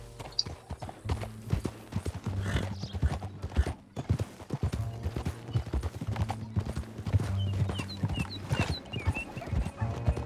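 Rhythmic hoofbeats of a galloping horse in the video game Red Dead Redemption 2 pound steadily throughout, with a brief whinny near the end and faint voices in the background.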